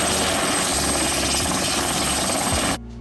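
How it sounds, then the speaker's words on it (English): A helicopter whirs loudly and close, its rotor chop and engine drone steady, then cut off abruptly near the end. "I had to take the helicopter this time"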